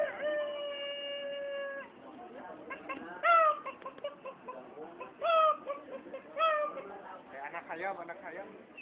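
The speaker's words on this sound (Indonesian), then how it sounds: "Anak ayam." Young chicks inside a factory, giving repeated high, thin cheeps in short bursts with a longer sustained call at the start, fairly close, with voices talking at times.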